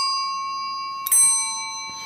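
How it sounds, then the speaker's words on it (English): A Western Electric Bell System 1A2 key system ringer chime sounds a sustained bright tone that rings on and fades, with a sharper struck accent about halfway through. "This one sounds more like a doorbell."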